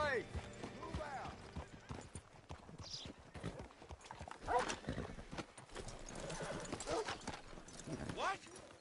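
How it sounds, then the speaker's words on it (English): Horse hooves clip-clop in an uneven rhythm in the Red Dead Redemption 2 video game, with a horse whinnying and voices talking over the footsteps. "Hitch your horse up here."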